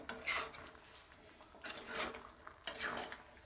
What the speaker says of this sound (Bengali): এইভাবে নাড়িয়ে নিচ্ছে